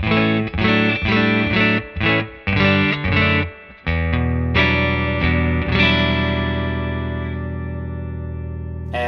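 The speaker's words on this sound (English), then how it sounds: "Just playing the Strat through the Deluxe Reverb. So here's the clean bypass tone." A Fender Stratocaster plays clean through a Fender Deluxe Reverb amp: a run of plucked chords and notes, then a final chord left ringing and slowly fading.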